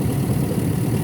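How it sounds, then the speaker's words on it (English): An engine idles on a Hummer/Yukon with a broken, jammed alternator shaft, giving a steady, fairly loud low rumble with even vibration throughout and no talking. "Engine running like super quiet and nice"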